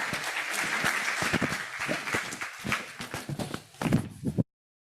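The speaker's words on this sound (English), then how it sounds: "another round of applause for Mr. Madra" Conference audience at a privacy symposium in Africa applauding a speaker: a sustained patter of many hands that thins toward the end, with a few stray loud claps before it cuts off abruptly.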